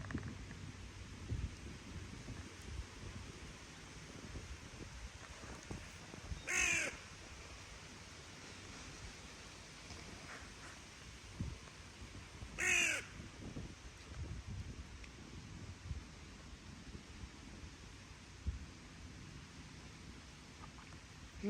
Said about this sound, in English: I mean, the one that keeps calling.